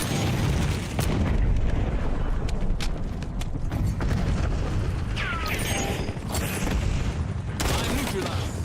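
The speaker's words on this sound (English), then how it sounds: "Frag thrown." A frag grenade bursts in a first-person shooter amid a dense, continuous barrage of gunfire and booming blasts, loud and steady, with game voice callouts faintly mixed in.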